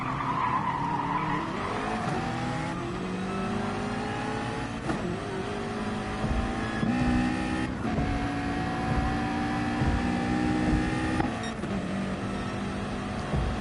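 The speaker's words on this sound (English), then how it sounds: "Both of them with a little bit of a vacuum cleaner sound though from the turbos." Turbocharged V8 GT3 race cars in the Gran Turismo racing game sweep through gears with rising engine tones, a whooshing turbo note and repeated tire squeals. The sound is continuous, without speech.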